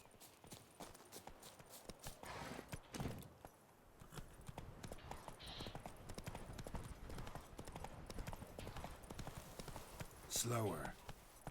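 Roach, Geralt's horse in the video game The Witcher 3, trots along with a quick, even clip-clop of hooves throughout, while someone talks over the hoofbeats.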